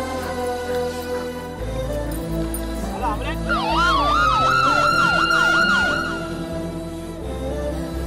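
An ambulance siren rises and wails in a fast, repeating sweep for a few seconds, sounding over a steady musical drone before fading out.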